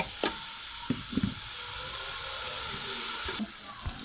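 Radish leaves fry in a pan with a steady sizzle and hiss, broken by a few soft knocks and scrapes of stirring, close by with no talking.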